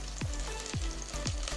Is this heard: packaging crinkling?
no